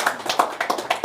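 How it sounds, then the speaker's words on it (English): A handful of people clap in a short, uneven patter, about ten separate claps in a second, close and fairly sharp. "Please clap for me."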